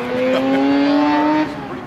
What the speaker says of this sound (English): Rotary engine singing away in there. Good looking RX.